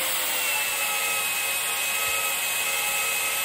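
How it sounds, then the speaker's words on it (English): An Evolution magnetic drill boring into steel during a vertical smoker build, a steady loud high-pitched cutting whine with broadband grinding noise that holds constant throughout, with no talking. "This is an Evolution mag drill."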